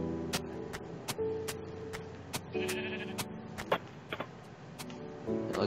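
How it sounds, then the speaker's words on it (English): Sheep bleating in the Minecraft video game, several short baas from a flock at moderate level, interspersed with sharp clicking ticks. "There's so many sheep in this area."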